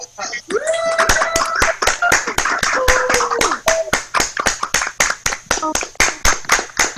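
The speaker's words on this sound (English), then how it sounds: "Your chance to give Jenna a great round of applause" Applause for fiddler Jenna Reid at an online concert in April 2020 comes as crisp, close, evenly spaced hand claps from a small group, with voices talking over the first part.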